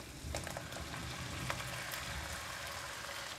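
Mustard green stems hitting a hot wok, a steady broadband sizzle and frying hiss running throughout with a few brief crackles, close and moderately loud, no talking.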